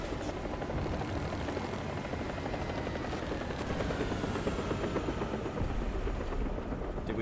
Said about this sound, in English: I'm getting strafed by a jet.